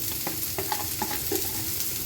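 Breakfast food reheating in a pan, given a light fry: a soft, close sizzle broken by several short scraping stirs.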